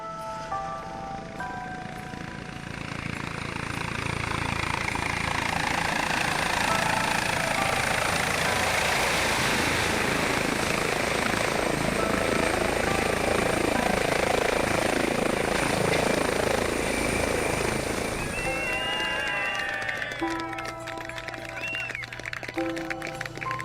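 An air ambulance helicopter's rotor roar builds and holds steady, loud and close, with a high whine above the thumping blades, fading slightly near the end.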